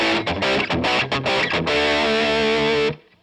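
Distorted electric guitar through a Mesa Boogie Mark V amp set to 45 watts plays loud chugging chords with brief gaps, then rings out in a sustained chord that stops abruptly near the end.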